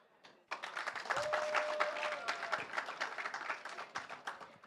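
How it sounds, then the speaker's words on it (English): A youth audience at a climate conference pavilion breaks into clapping after a brief pause, a dense burst of many hands that stays lively, then thins into scattered claps toward the end. "So I just want us to clap hands for ourselves."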